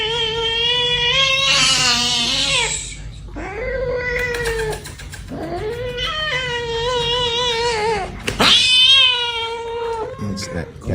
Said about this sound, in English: To put a cat in the full Nelson, that's a big cat.